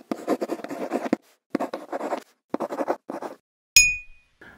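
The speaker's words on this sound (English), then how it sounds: "I have only cut the tape, and this month I did remember to cut all of the tape" A blade slicing through packing tape on an Owlcrate subscription box, heard as several close scratchy bursts of cutting and tearing with short pauses between them, then a bright metallic clink near the end.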